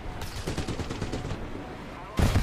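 Rapid bursts of gunfire from a video game battle, crackling in quick repeated shots with a louder blast near the end.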